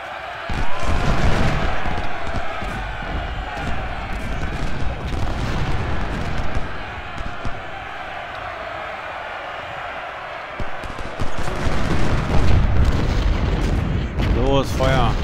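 Cannon artillery fires repeatedly in a Civil War battle in the Ultimate General: Civil War video game, booming blasts and rattling volleys layered over a dense, continuous din of battle.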